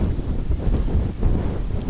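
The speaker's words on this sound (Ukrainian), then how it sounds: "Вітер такий, друзі, ще більший розібрався" Strong wind gusting over a river bank during carp fishing, a steady broadband rush with low rumbling buffets against the microphone, continuous and fairly loud throughout with no voices.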